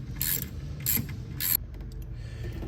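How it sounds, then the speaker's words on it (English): Ratcheting wrench working on the alternator bracket of a 2007 Jeep Wrangler with a 3.8L engine: three loud, close bursts of rapid metallic clicking, each lasting a fraction of a second, with quieter mechanical rattling between. "you want to take off this bracket"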